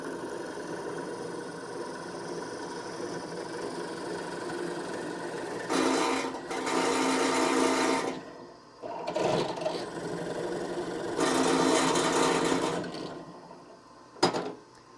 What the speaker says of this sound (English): that lets me drill the hole in the same spot